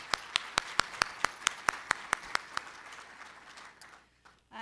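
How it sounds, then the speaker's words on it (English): Conference audience giving a round of applause after a speaker on the US real estate economy, heard here as a single person's sharp, evenly spaced claps, about a dozen, fading into faint room noise. "Give him a round of applause."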